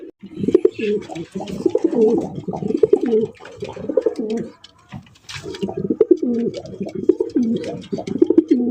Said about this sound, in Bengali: ব্ল্যাক রেসার কবুতর, ডাকের স্টাইল দেখেন